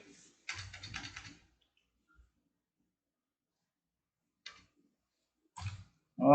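Short bursts of typing on a computer keyboard while writing Pygame code, a quick cluster of clicks followed by scattered isolated taps, close up with quiet gaps between.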